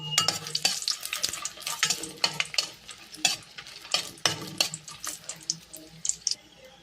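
Whole spices frying in a hot pan before grinding, with steady sizzling and repeated scraping and stirring strokes of a spoon against the metal, close and fairly loud throughout.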